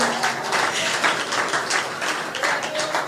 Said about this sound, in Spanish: Dale ese aplauso al Señor esta noche.